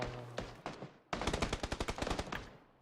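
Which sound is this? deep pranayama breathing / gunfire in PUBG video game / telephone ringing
gunfire in PUBG video game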